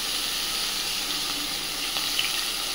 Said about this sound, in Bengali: মাছগুলো আমি ভাজা বসিয়ে দিচ্ছি।